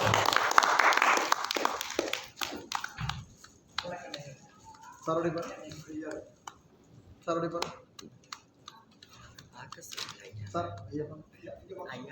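An audience claps at an awards ceremony and cultural festival in Chennai, India. A short, dense burst of applause opens, then gives way to someone speaking over the room's sparse background noise.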